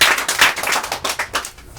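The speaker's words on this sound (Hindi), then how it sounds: "एक बार सही जवाब है, जोरदार ताली से स्वागत किया जाए" On a quiz show stage, the audience claps for a correct answer with a short burst of rapid hand claps, loud and close, tapering off within two seconds.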